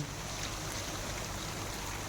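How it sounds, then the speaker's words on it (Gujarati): Steady, soft hiss of light rain falling on a roadside during a motorcycle trip, continuous and even throughout, with no voices. "હવે જો વરસાદ ચાલુ થઈ ગયો છે"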